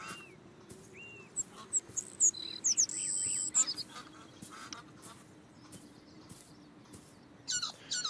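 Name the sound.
birds chirping in video game Beyond Eyes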